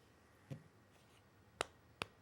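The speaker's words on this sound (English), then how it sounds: "You got a slow clap" Three slow, widely spaced hand claps, each a sharp, quiet smack over a faint room hiss, given as a mock slow clap among wrestling podcast hosts.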